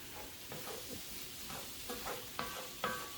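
Garlic sizzles in a pot for a New Orleans beef po boy broth, a faint, soft frying hiss broken by a few gentle stirring scrapes and light metallic taps.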